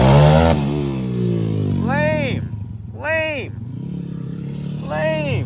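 A dirt bike engine revs hard in rising, falling bursts as the rider lands into a wheelie, loud and close, with voices talking over it.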